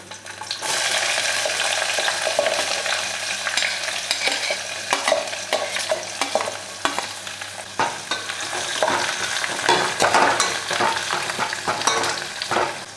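Onion frying in oil with boiled chickpeas in a pan, a constant close sizzle with frequent scraping and clinking of a stirring spoon, and no talk.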